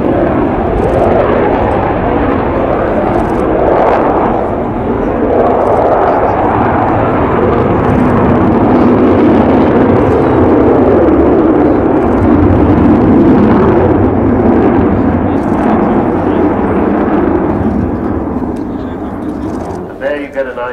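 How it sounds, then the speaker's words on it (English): An Avro 698 Vulcan B2 bomber, XH558, roars through an airshow flying display at RAF Fairford, RIAT 2015, a loud, continuous jet rumble filling the whole stretch and easing off at the end. "And there you get an idea of the amazing agility of this aeroplane."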